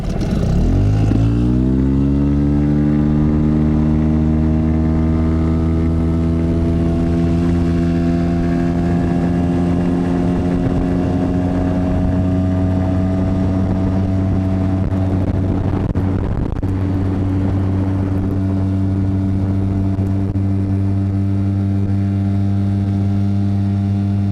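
A small outboard motor on a Flagman 380 boat carrying about 100 kg at roughly 29 km/h drones steadily as it revs up and settles into a constant, buzzing hum, close and loud throughout.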